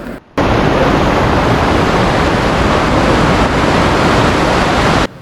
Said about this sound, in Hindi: आप भी समुद्र की आवाज़ सुनिए, देखिए समुद्र की आवाज़ कितनी तेज़ आती है।